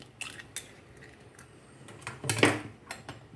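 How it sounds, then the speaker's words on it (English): Four eggs being cracked into a bowl for an Irish potato quiche, with a series of sharp taps and shell clicks scattered unevenly, the loudest crack and wet slip near the end, close and fairly quiet with no talk. "cracking the eggs. I'm using 4 eggs."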